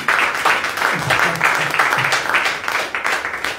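Audience applause at a gospel press conference, a full room clapping in a steady, energetic wash that swells and pulses for several seconds, with faint voices mixed in.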